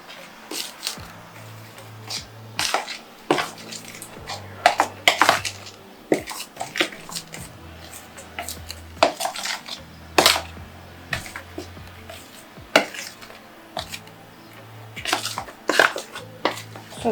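Dry carrot cake ingredients with a pinch of salt being stirred in a bowl, repeated clinks and scrapes of a utensil against the bowl in an irregular rhythm, close up, with background music and no talking.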